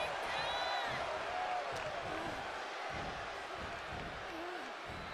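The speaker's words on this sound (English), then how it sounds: "And now Bianca getting the crowd involved here." A video game arena crowd at a WWE 2K24 women's wrestling match keeps up a steady, dense roar with some whoops and cheers, and it sits continuously under the action.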